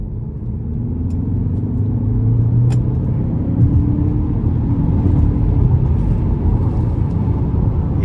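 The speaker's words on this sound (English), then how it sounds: "So we're gonna see if we can get enough space to do a nice pull getting on the interstate here." A 2025 Lincoln Corsair with a 2.0-liter turbocharged four-cylinder accelerates hard onto an interstate, a steady loud engine and road rumble from inside the cabin with a rising tone, downhill pull, no talking.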